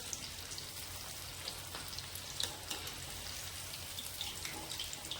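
Chicken 65 pieces frying in hot oil, a dense continuous sizzle and crackle with scattered pops, steady and close throughout.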